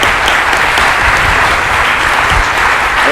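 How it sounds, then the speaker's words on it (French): An audience at an academic network's day of talks gives a big, loud round of applause for the event organizers, dense clapping that holds steady throughout. "Je pense que rien que ça mérite un grand applaudissement."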